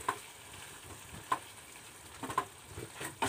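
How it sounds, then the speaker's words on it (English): Prawns cook in a hot and sweet sauce, giving a soft, faint sizzle with occasional stirring clicks and scrapes close by. "So here's the time for the prawns to meet the hot and sweet sauce mixture."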